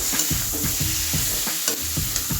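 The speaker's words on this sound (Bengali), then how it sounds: "এবার জল দিয়ে দেবো" Water goes into a pan of fried spice paste for a fish curry with potato and brinjal, and a continuous close sizzle and bubbling follows, broken by rhythmic scraping strokes of a spoon, with no speech.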